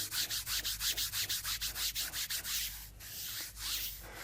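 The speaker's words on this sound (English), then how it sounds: "So we're rubbing the glue" Kinesiology tape being rubbed briskly on skin over the hamstring, a fast regular swishing friction repeated about fifteen times, then slower longer strokes, close and quiet with no talking.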